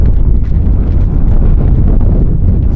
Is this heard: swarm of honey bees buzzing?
no